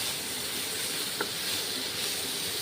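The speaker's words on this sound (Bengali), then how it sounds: "নুন দিয়েছি এবং হলুদ গুঁড়ো দিয়েছি ভেজে নিচ্ছি পটল নেড়ে চেড়ে" Pointed gourd pieces with salt and turmeric fry in a pan, giving a steady, even sizzling hiss throughout, with one faint click of the spatula midway.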